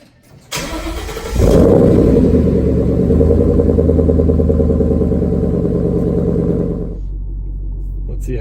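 A 2014 Ford Mustang GT engine cranks briefly, then fires into a loud, deep idling rumble in a garage that holds steady for several seconds before dropping to a quieter drone.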